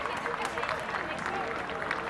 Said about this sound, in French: Donc applaudissez Léopold qui s'envole vers la victoire et qui va remporter cette épreuve.